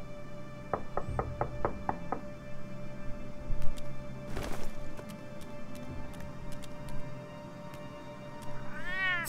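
A cat meows in the Batman Telltale Series video game, a few short mewing calls over a quiet mechanical, ratcheting game background with no talk.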